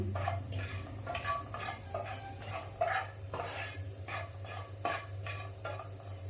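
A spatula scrapes and stirs through a thick potato filling for paratha in a frying pan over low gas, with repeated soft scraping strokes over a faint steady hum.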